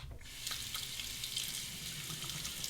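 A Gillette Fatboy razor, the 1959 E4 model, rinsed under a running sink tap, with a steady close hiss of flowing water after a brief start.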